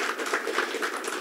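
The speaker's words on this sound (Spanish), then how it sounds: "un aplauso para los 2 presentadores" An audience at a Spanish-language event on artificial intelligence gives a short burst of applause for two presenters, with steady clapping over about a second and no talk heard.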